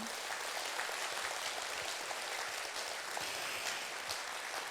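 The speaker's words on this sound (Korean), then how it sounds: "그분의 외길 인생에 다시 한번 박수를 보내고 싶습니다" Audience at a Korean humanities talk concert applauds steadily, a dense wash of clapping from a full hall holding at an even level throughout.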